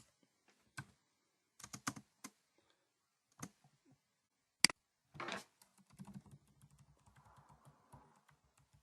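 Sparse, uneven keystrokes on a computer keyboard while coding, with isolated clicks and short bursts of typing, close and clear in an otherwise quiet room.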